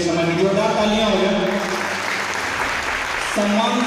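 Loud applause from an audience at a music academy's annual function, sustained clapping filling the clip, with a voice speaking over it through a PA at the start and again at the end.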